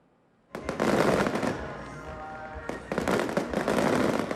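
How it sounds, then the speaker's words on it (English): Fireworks and firecrackers go off at Lantern Festival celebrations in southern Taiwan: loud, dense crackling bursts that begin abruptly, ease briefly, then erupt again in rapid overlapping pops. "Dragon lanterns, fireworks, and explosions, all part of celebrating the Lantern Festival in Taiwan."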